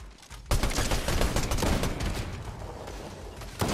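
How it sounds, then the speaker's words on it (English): Rapid bursts of gunfire from an enemy team in Fortnite Chapter 5 Battle Royale, loud and close, a dense continuous volley of repeated shots running almost the whole time with no talk. "There's another team on the other side that just pulled up. I had a... And they're shooting me."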